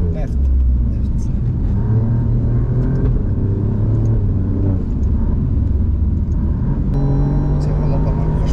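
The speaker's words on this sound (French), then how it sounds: "Mais elle fait un bruit très sympa, la voiture." A race car engine on a circuit in the Emirates, heard from inside the cockpit, gives a loud, continuous low rumble with shifting pitch as it revs and settles, and a voice talks over it.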